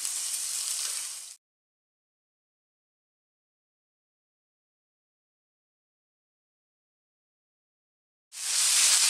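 A whole fish sizzling in a frying pan over fairly high heat: a bright, hissing crackle for about a second, then silence, then the loud sizzle returns near the end.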